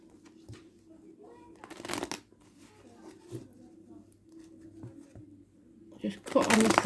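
A deck of tarot cards being shuffled and cut, with short riffling bursts and a louder shuffle at the end, while a voice talks and pigeons coo faintly in the background.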